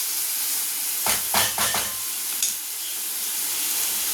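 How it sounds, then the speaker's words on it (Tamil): Tomatoes sauté in a pan for a white peas kurma, with a steady hiss of frying broken by a quick cluster of three or four stirring scrapes and one later scrape, no voices. "தக்காளி பச்சை வாசனை போகிற வரைக்கும் நல்லா வதக்கிக்கணும்."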